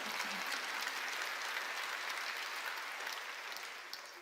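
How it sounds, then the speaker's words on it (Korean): A church congregation applauds during a Korean sermon, a dense, steady wash of clapping from many hands that holds evenly and fades slightly toward the end, with no voices over it. "믿으면 박수"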